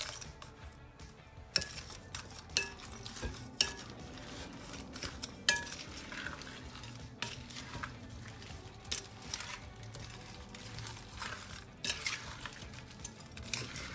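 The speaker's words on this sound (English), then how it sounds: "we are going to stir this in" Jamaican pepper shrimp being stirred in a pot, with a continuous low clatter of spoon against metal and scattered clinks and scrapes at moderate, fairly even volume throughout.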